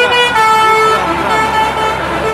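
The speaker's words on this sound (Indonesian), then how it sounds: "Yang ini mobil bus kota." Toy city bus with a steady whining engine hum and tonal horn-like notes, near and loud throughout, with no one talking.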